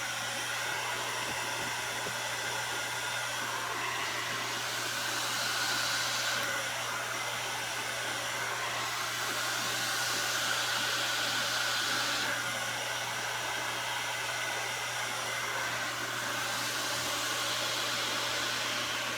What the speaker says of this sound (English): So I'm going to go ahead and put the blow dryer on